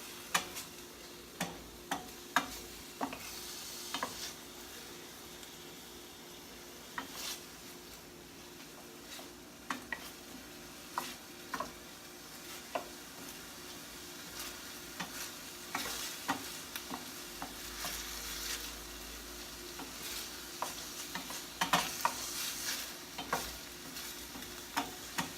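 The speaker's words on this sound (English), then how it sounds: "we want to infuse that oil with the garlic and onions" Garlic and onions sautéing in oil give a quiet continuous sizzle broken by regular sharp ticks of a spoon stirring against the pan, with no voices.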